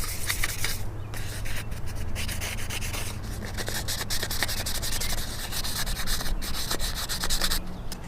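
Wiping down a metal strut tower brace by hand before spray painting, a continuous close rubbing and scrubbing with faint scratchy strokes and no talk.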